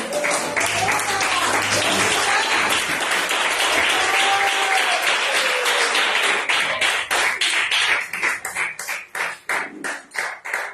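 A church congregation applauds, dense clapping under singing voices at first, then thinning into fewer, distinct claps toward the end.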